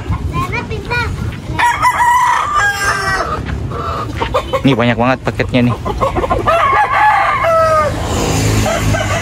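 Several roosters crow loudly over constant clucking from many chickens unloaded from a bus, with someone talking briefly amid the noisy flock.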